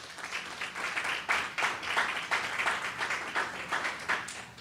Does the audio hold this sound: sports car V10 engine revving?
no